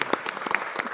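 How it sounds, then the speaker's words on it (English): A church congregation at an annual parish meeting bursts into applause, many hands clapping irregularly in a busy, overlapping patter that stays fairly close and moderately loud, with a faint voice beneath. "I want you to stand up and applaud for yourself."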